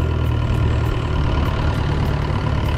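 Boat engine runs on a lake excursion on Cheow Lan Lake in Khao Sok, Thailand, a loud, steady low rumble with a constant drone and no pauses.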